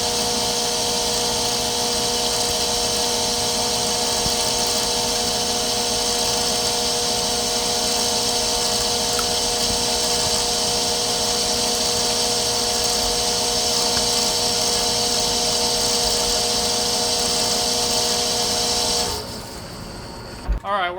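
A metal lathe takes a deep 12 mil cut on the pin boss of a large excavator bucket, a steady loud machining drone with tonal lines that runs unbroken for about nineteen seconds, then stops abruptly.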